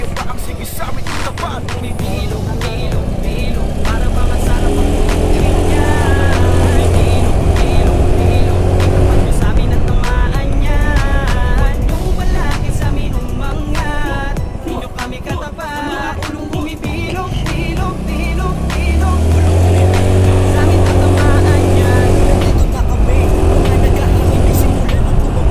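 A Honda Beat carbureted or Yamaha Mio Sporty motor scooter on a test ride gives a continuous engine drone and road rumble that swells and eases slightly, with a voice talking over it at times.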